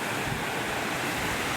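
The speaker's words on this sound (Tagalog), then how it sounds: "Tapos may alon" Ocean waves wash onto a lagoon shore at San Salvador, Laguna, as a steady, full broadband roar with wind buffeting the microphone. No voices are heard.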